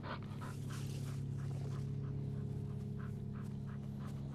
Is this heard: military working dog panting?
yes